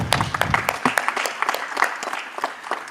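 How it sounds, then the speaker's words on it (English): Audience applause at an award felicitation during a nuts and dry fruits industry event, a dense, steady round of clapping from a crowd that carries on throughout without pause. "A warmer round of applause, ladies and gentlemen."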